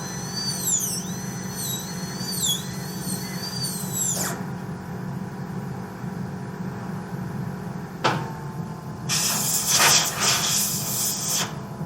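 A dental burr drills a tooth for an all-ceramic onlay, a high-pitched whine running steadily with a faint background hum and a few short hissing bursts of spray near the end, close and moderately loud without speech.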